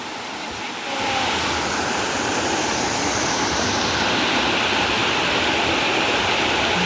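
Gabur Gabur Falls in Cagayan thunders as a loud, steady roar of rushing water that swells in about a second and then holds unbroken and close.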